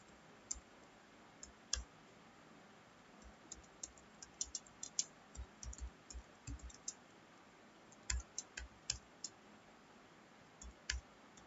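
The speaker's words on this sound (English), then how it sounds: "and now we'll type the program." A computer keyboard clatters faintly as an HTML program is typed, giving irregular bursts of soft key clicks with short pauses between them.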